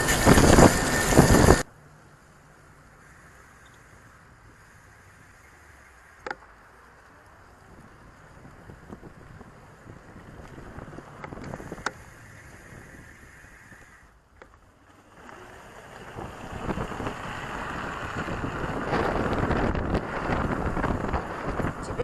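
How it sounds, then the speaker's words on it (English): Steady broadband wind rush buffets the microphone on a bike ride, fairly loud and continuous, swelling toward the end, with a few brief clicks and no talking. "Windy today."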